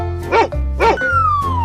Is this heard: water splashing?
no